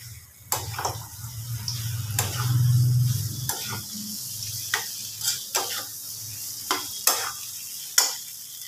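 Soybean curry is stirred in a pan, with a spoon scraping and knocking against the pan in irregular strokes over a low simmering sizzle, close and clear.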